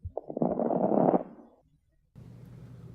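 A voice imitates the rales, or lung crackles, heard on auscultation over tuberculosis lung involvement: a rough, bubbling crackle that swells for about a second and a half, then a pause and a quieter murmuring rumble.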